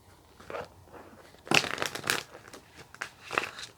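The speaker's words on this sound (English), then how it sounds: "If I can actually shuffle the cards." Bursts of papery riffling and crinkling, several quick shuffles close by with short pauses between, no talking.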